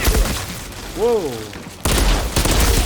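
A burst rifle fires in the video game Outriders: after a brief vocal exclamation, two loud, sharp bursts of rapid shots ring out in the second half, close and punchy.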